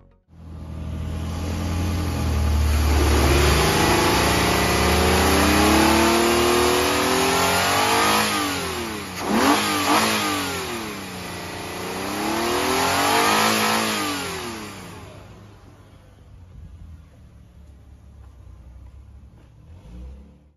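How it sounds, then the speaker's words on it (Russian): A Nissan VQ35DE V6 engine, taken from a Teana, runs on its own, rising into a long rev, then swelling and falling in two sweeping revs before settling back to a steady idle and cutting off. "Имеется видеообзор работающего двигателя."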